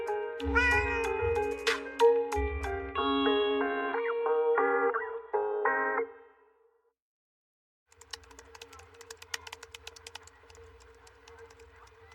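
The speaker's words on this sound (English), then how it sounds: "2 sounds more like mew, which is a sound that a cat makes" A cartoon cat meows in a string of high, bright, effect-processed calls over several seconds, then falls silent before a softer stretch of faint clatter and noise.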